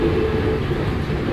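A Soekarno-Hatta airport train runs with a steady, loud rumble and hum, continuous throughout, heard from inside the carriage.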